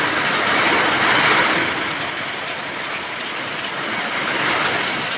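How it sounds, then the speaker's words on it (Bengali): Heavy rain pouring down in a dense, loud, continuous roar that swells and eases slightly over a few seconds, with no voices over it. "এই যে দেখো কত জোরে জোরে বৃষ্টি হচ্ছে"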